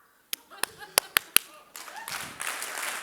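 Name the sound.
hand clapping to quiet the audience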